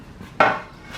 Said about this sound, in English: Let's shut the bonnet.